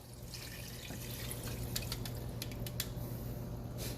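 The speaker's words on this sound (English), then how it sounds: "just fill the pot to the top with water" Tap water pours into a cooking pot over dry red beans, a steady running stream with splashing and a few bright drips and plinks rising toward the end, close and moderately quiet.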